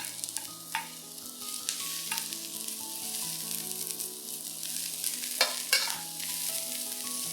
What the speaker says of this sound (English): When the oil is hot, add in the aromatics. That's the garlic, ginger, and the white parts of the spring onions.